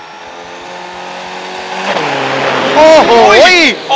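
A turbocharged pickup truck at a drag racing run in Nakhon Pathom, its engine droning and then rising sharply in loud revs, near and powerful, with voices audible over it.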